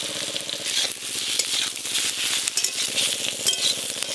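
Sliced spiny gourd frying in oil in a pan, a close, steady crackling sizzle with repeated scraping strokes as the pieces are stirred and turned, no voices.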